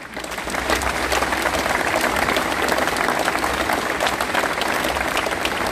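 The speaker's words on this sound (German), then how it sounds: "ja komm, ihr könnt klatschen." A crowd applauds during a speech at a 2023 Schützenfest (shooting festival) in Altena, Westphalia. Many hands clap in a thick, continuous burst that swells quickly and holds steady for several seconds, with no talking over it.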